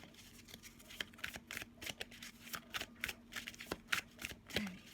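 Tarot cards being shuffled by hand, a quick run of crisp riffling flutters and soft slaps, close and fairly quiet, with no talking.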